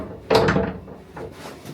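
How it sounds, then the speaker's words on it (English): A bathroom door in a rustic retreat cabin is pulled and latched, a single close wooden clunk of the door and lock, followed by faint handling noises in a quiet room. "Lock the door."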